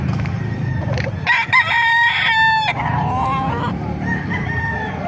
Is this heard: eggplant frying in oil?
no